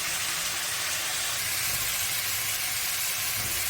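Salted eggplant pieces frying in hot oil in a pan give a steady, close hiss and sizzle that holds evenly throughout, with no talking.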